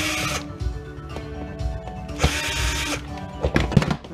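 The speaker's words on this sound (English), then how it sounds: "Get these last couple screws out while I'm here." Screws being backed out of a VCR chassis with a screwdriver: scraping, clicking metal-on-plastic handling noises with a couple of louder knocks and rattles, close and fairly steady across a few seconds.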